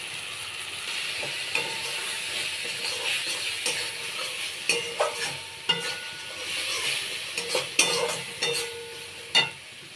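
Ground spices with salt and turmeric being sautéed in a pan for a pointed gourd and egg curry, giving a steady sizzle broken by repeated sharp scraping stirs and clicks of the spoon, close and clear with no talking.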